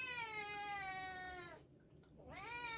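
A cat meows nearby: one long, drawn-out, wavering call, a short pause, then a second rising meow, loud and clear with no talking.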